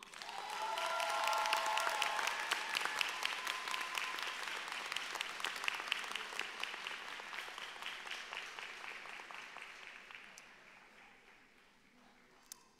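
A crowd at a university graduation convocation applauds, the clapping swelling quickly, holding steady, then gradually thinning out toward the end.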